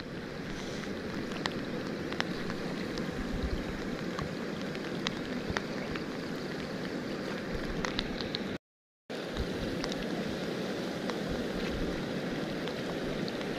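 Steady rain patters continuously on a surface, a dense hiss with scattered drop ticks, broken by a brief silence.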